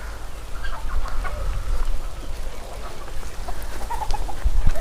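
Free-range desi chickens cluck and chatter on a farm among lemon trees, scattered clucks near and far over a low rumbling outdoor background.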